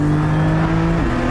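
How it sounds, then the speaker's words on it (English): The rear-mounted six-cylinder engine of a Porsche 718 Spyder, heard with the roof down, hums in a loud steady drone whose pitch shifts partway through. "hearing the 6-cylinder engine at the back like this with the roof down"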